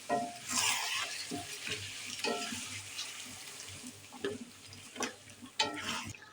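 Chicken stirred in a pan with salt, red chili powder and turmeric for an Eid biryani, with spatula scrapes against metal in uneven strokes over a steady close sizzle, no voices.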